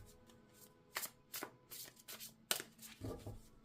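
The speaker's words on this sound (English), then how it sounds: "I'm going to clear the table here a little bit." Tarot cards being gathered up and cleared from a table, heard as several quick, close papery swishes and slaps in irregular bursts, with no talking.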